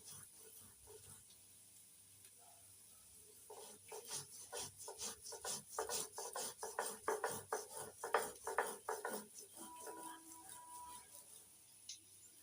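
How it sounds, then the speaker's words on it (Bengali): Poppy seeds and chillies ground with a little water on a stone grinding slab give faint, rhythmic rasping strokes, a quick run of back-and-forth scrapes after a quiet start, trailing off at the end. "এবার অল্প অল্প জল দিয়ে শিলনোড়ায় বেটে নিচ্ছি।"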